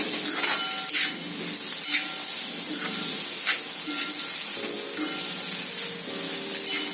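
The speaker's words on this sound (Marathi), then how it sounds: "आणि आता हे चांगलं 2 ते 3 मिनिटं परतून घ्यायचंय" Potato bhaji seasoned with salt sizzling in a pan, a steady close crackle of frying broken by regular scraping stirs and a faint clink of a utensil.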